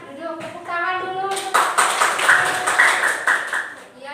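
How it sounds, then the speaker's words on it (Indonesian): Classmates in a school classroom clap together after a group presentation, a burst of near, fairly loud clapping that swells after a brief pause and continues steadily amid some voices. "tepuk tangan dulu"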